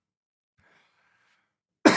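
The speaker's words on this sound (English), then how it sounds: "Sorry, guys, coughing." A single sharp cough bursts out near the end after near silence, loud and close, following a faint murmur.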